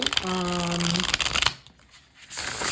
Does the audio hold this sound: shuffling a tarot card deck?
yes